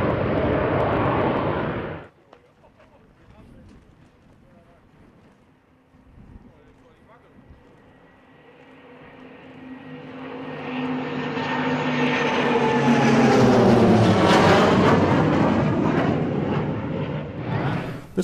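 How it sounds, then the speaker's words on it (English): A Swiss F-18 fighter jet takes off at the Florennes International Airshow, its engine roar swelling from faint to a loud, sustained rumble as it passes, after a short opening burst of noise. "And here the takeoff of the Swiss F-18,"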